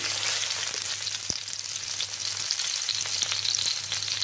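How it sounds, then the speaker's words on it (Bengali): Onions and a bay leaf fry in a pan over a medium-high flame, giving a moderate, continuous sizzle with crackles and a few sharp stirring clicks, and no voices. "পেঁয়াজটা কিছুটা ভাজা হয়ে গেছে, এখন আমি তাতে একটা তেজপাতা দিলাম"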